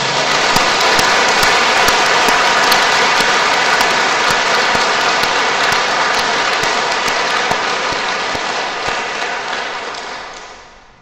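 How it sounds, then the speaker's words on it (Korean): A church congregation at Jinsa-ri Catholic Church in Pyeongtaek applauds heartily: a dense, loud, sustained wash of many hands clapping together that holds steady for about nine seconds, then tapers off at the end. "힘찬 박수 한번 쳐봅시다"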